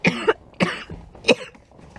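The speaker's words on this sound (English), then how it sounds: "I've been coughing a lot" Three harsh coughs in quick succession, close and loud, with short gaps between them.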